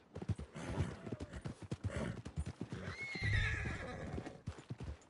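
Horse in the Red Dead Redemption 2 video game whinnies loudly near the middle while steady clip-clop hooves beat throughout, close and clear with no talk over it.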